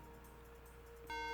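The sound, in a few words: Mac computer beep during macOS install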